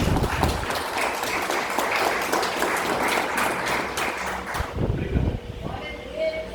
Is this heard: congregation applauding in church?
yes